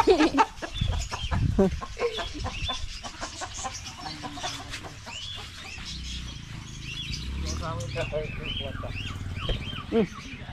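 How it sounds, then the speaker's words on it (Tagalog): Chickens cluck repeatedly nearby in short bursts, with people talking over and between the clucks. "Papasukin natin yung mga manok"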